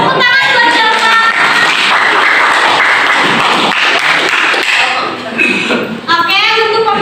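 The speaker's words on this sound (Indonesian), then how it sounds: "Nah, tepuk tangan buat jawaban." Classroom applause for a group's answer during a teacher's lesson, a dense burst of hand clapping with mixed voices chattering over it, thinning toward the end as talk continues.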